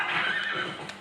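A horse in a Zelda video game gives a loud whinnying neigh that fills the short moment, with a faint clip-clop of hooves underneath and no talking.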